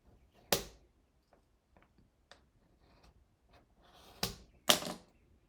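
Scissors cut through scrapbook paper in a quiet room, giving a few sharp snipping crunches with small ticks and rustles between them, close and fairly faint.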